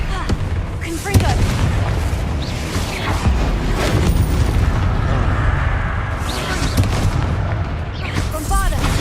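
Confringo spell blasts in the Hogwarts Legacy video game make booming explosions during a troll fight, with dense rumbling impacts repeating over several seconds under shouted spell incantations.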